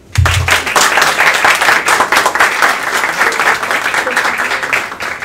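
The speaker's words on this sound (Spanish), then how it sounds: "por favor, un aplauso" Applause from a JavaScript meetup audience welcoming a presenter, many hands clapping in a steady, fairly close burst that begins abruptly and tapers slightly over about five seconds.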